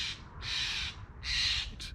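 Three or four loud, harsh crow caws ring out in quick succession close by in a city during heavy smoke, each a rasping call with short gaps between.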